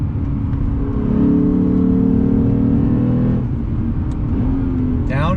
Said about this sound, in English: On throttle, here we go, yeah! Smoke them if you got them. And we got them in this RCF. Woo! V8 sound, I love it.